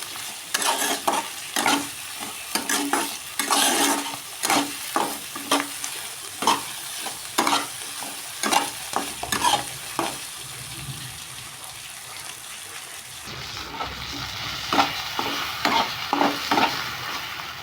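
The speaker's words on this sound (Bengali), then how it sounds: "এভাবে পুঁই শাকটাকে খুব ভালো করে কষে নেবো" Malabar spinach with a pinch of turmeric is stir-fried in a pan, heard as repeated rhythmic scraping strokes of a spatula over a constant hiss and crackle, close up, with the stirring easing into steadier sizzling near the end.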